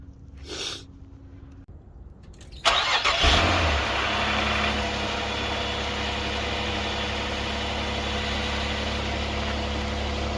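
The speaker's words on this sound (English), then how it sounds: "I'm hearing a little vacuum leak sound anyway, like it's sucking" A 1996 Nissan Maxima engine turns over and catches, then settles into a steady, close idle with a continuous hissing, sucking vacuum-leak noise running beneath the hum.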